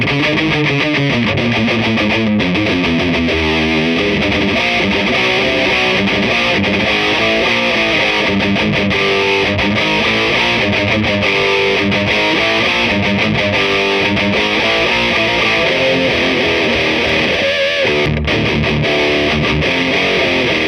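A heavily boosted, distorted electric guitar tone through a Crate Blue Voodoo 60 combo amp plays continuously, fuzzy and saturated, with chords strummed in a steady rhythm and a brief pause near the end.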